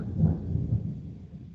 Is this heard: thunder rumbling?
yes